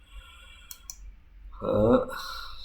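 Mouse clicks on a computer while submitting a URL in a search engine webmaster tool: two quick faint clicks, then someone briefly talks, with a low room hum throughout.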